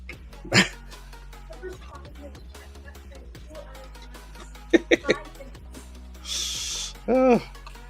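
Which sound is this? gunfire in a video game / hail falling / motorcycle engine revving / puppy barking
puppy barking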